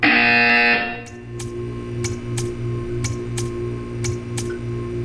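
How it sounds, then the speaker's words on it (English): Buzzer from the Portal 2 video game, a loud sustained buzz that cuts off after about a second, followed by a series of sharp regular ticks over a low steady hum. "You will hear a buzzer."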